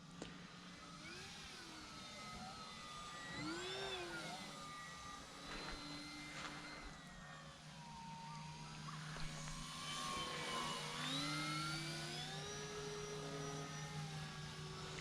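An E-flite Cirrus SR22T RC model airplane flies overhead with a faint, steady electric whine that rises and falls in pitch as it passes at a distance, heard alone with no talk.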